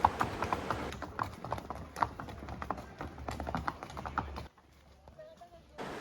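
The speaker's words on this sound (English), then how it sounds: "Horses are commonly used to navigate the narrow and hilly pathways of Matheran" Horses' hooves clip-clop along the narrow, hilly dirt paths of Matheran hill town, a steady run of close, sharp strikes for about four seconds before the sound drops away to near quiet.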